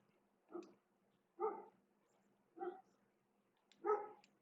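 Dogs bark outside, four separate muffled barks spaced about a second apart, heard faint and distant against near silence.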